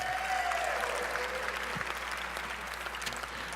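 An audience at a Congressional Black Caucus braintrust event applauds in a steady wash of clapping that fades slightly toward the end, moderately distant and alone without talk.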